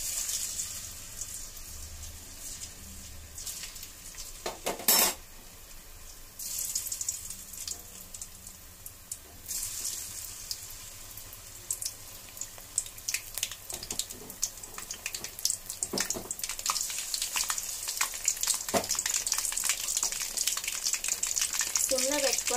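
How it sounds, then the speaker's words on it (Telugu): Mushrooms frying in hot oil for mushroom Manchurian, a steady bright sizzle that grows denser and louder over time, with occasional clinks and stirring. "నూనె కాగిపోయింది ఇప్పుడు మష్రూమ్స్ వేసేసుకుందాం"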